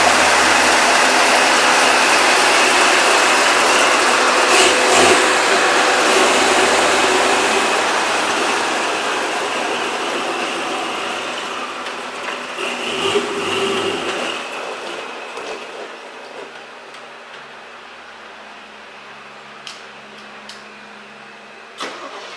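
A propane-fuelled vehicle engine running loud and steady up close, then gradually fading as it moves away, with a brief rumble midway and faint clicks near the end.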